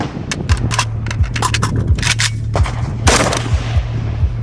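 Rapid metallic clacks and scrapes as an AK rifle's magazine is handled during a reload, a close, loud cluster of sharp transients over a low rumble.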